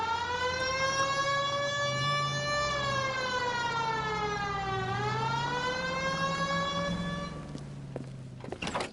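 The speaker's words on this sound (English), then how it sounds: "Hit the siren." A wailing police car siren in a video game sweeps up and down in long, steady tones, loud and close, dipping low midway before trailing off into a brief clatter at the end.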